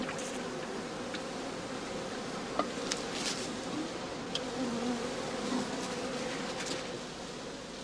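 Honey bees hum steadily around heather-straw skeps at an apiary on North German heathland behind a farm, a dense continuous drone of many insects, moderately close and without speech.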